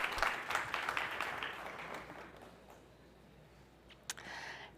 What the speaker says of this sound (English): Please, let's give her applause.